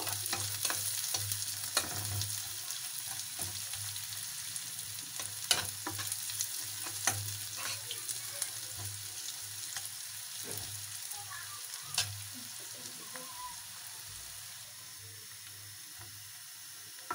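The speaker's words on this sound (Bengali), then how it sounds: "2টো পেঁয়াজ নিয়েছি আমি এখানে। এখন ভালোভাবে ভেজে নিব।" Chopped onions with garlic fry in oil with a steady crackling sizzle, as a spatula stirs and scrapes the pan with frequent sharp taps throughout.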